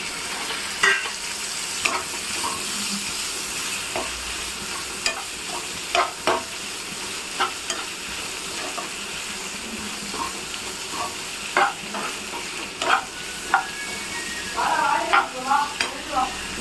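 Small pieces of chicken frying in a pan for beans butter chicken, a continuous close sizzle punctuated by repeated scraping stirs and clinks of the spatula, with a louder crackling flurry near the end and no talk.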